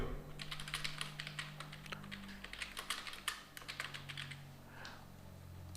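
Rapid close clicking of keys on a computer keyboard as questions are typed, irregular bursts of keystrokes with a brief pause near the end, no voices.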